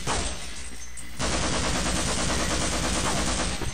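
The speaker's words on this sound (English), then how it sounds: "We're just gonna use the machine gun on you." Machine gun fire in the Half-Life video game, a loud, dense stream of rapid shots that starts after a brief quieter moment and then hammers on continuously to the end.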